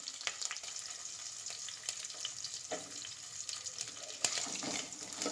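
Onions, green chillies and curry leaves sizzle steadily in a hot pan, a close, continuous hiss with a few soft scraping pops and no voices.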